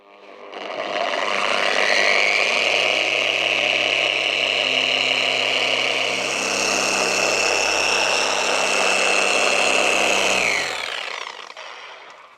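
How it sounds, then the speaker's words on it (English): A Meguiar's dual action polisher runs on a car bonnet with a steady, high-pitched electric whine. It starts up, holds an even drone for about ten seconds and then winds down. No one speaks. "put the pad onto the bonnet, press start, and the rotation will go quicker and it'll go up to speed"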